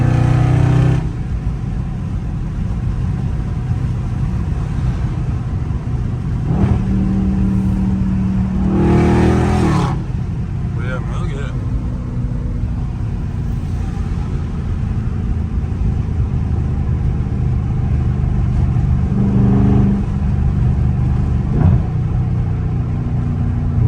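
A Dodge Scat Pack's engine accelerates in traffic, a steady car drone heard from inside the cabin with a window down, surging in short revving bursts before settling back.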